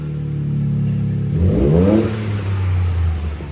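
Ford F-150 with a 2.7L Ecoboost engine and a PPE cat-back exhaust, idling low and steady before a single sharp rev that swells and falls back to a deep rumble, loud and close.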